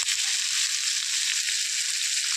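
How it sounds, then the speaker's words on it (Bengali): Pointed gourd (potol) sautéing in a pan for a Bengali coconut-milk dish, giving a steady, close, loud sizzle of frying that carries without pause and with no voices. "দিয়ে পটলগুলো ভালো করে কষিয়ে নেব।"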